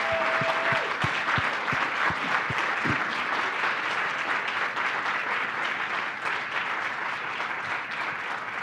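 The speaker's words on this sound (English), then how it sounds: "Can we just give these folks another big round of applause?" A large audience at a summit event claps in dense, sustained applause that continues steadily throughout, with a few sharp thumps near the start.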